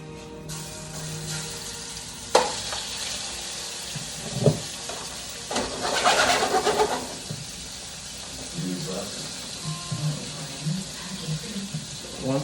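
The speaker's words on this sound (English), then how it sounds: "Once that's all in the pan, we're just gonna let it cook. Get a nice little sear on there." Lamb and vegetables sear in a hot pan with a steady sizzle throughout, broken by a few clanks and stirring scrapes; no one speaks.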